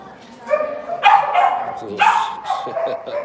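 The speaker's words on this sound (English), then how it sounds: "I bet they're probably hearing these dogs" Several dogs bark on a street in Saigon, Vietnam, with a few sharp, loud bursts in close succession and some yips and whimpers between them, while people talk nearby.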